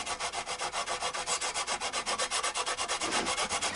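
Sandpaper rubs back and forth over the frets of a Chapman ML3 guitar in quick, even strokes, a close, steady rasping rhythm with no voices.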